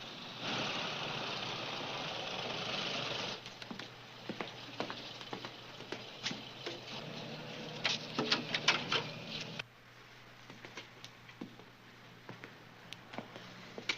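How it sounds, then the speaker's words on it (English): Steady engine rumble of idling motorcycles, loud at first then dropping off, with scattered clicks and small knocks over the idle. "Motorcycles."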